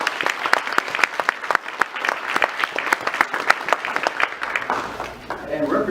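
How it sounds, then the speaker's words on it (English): A smaller crowd at a naturalization ceremony claps in distinct, sharp individual strikes, moderately loud and irregular, before a voice begins speaking near the close. "Give yourselves a nice round of applause."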